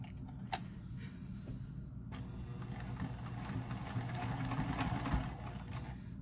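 A sewing machine stitches back over a seam on a triangle pyramid pouch with a steady, rapid mechanical run, close by and moderately loud, with a couple of brief clicks and no talking.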